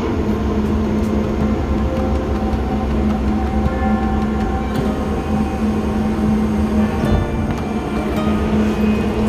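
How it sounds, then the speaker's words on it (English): A London Underground train rumbles steadily along the track, a constant loud roar with faint rattles and hum, no voices. "But yeah, this is the tube at the moment."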